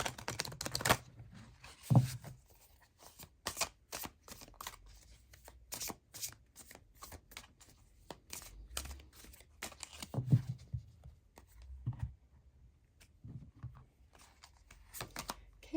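Tarot cards shuffled by hand at close range, a long run of quick crisp riffling and flicking clicks in irregular bursts, soft and without talking.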